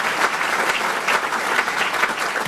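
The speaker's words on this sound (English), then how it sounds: "the first person I would like for you to give a round of applause for is the executive director of that organization" An audience at a leadership prayer breakfast applauds executive director Diana Dill, a steady, dense wash of clapping that holds at an even level throughout with no pauses.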